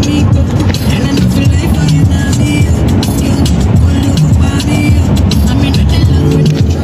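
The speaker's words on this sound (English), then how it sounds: "we are in the car going" Steady, loud road and engine noise from inside a car driving along a road in Ghana, a dense continuous rumble with faint voices in the background.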